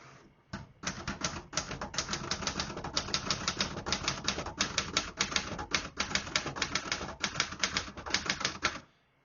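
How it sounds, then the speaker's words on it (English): Rapid, steady keystrokes clatter on a 1960s Remington Personal-Riter portable typewriter in excellent condition, a dense run of crisp strikes lasting several seconds, close and loud with no talking. "The print is perfect, super reliable typewriter."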